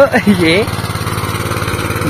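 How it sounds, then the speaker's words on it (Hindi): A farm tractor engine runs steadily with a throbbing, rhythmic chug up close, while people talk over the start of it. "ट्रैक्टर एक बार देखो कैसा होता है चलाते हुए"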